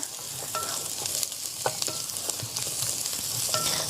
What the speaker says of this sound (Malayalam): അത് നമുക്ക് സബോള ഒന്ന് വഴറ്റി കൊടുക്കാം